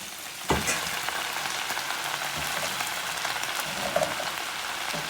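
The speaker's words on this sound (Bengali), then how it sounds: "এখন আমি শাকটাকে অ্যাড করছি।" Radish greens (mula saag) sizzle and fry in a hot pan after being added, a steady close crackling hiss with a brief clatter as they drop in at the start.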